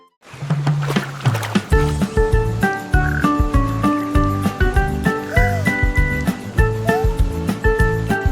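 A cheerful children's song about a counting frog plays with bouncy synthesized notes, and croak-like frog sounds recur throughout, loud and upfront.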